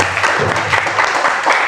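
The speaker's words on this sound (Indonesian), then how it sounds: "Oke, tepuk tangan lagi untuk kelompok 2." Brief applause for group 2 in a teacher training session, a short burst of clapping from a small group indoors.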